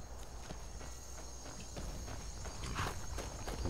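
A horse walks in the video game Skyrim, its hooves making soft, steady footfalls under faint ambient insect chirps and a wash of background sound, moderately close and quiet.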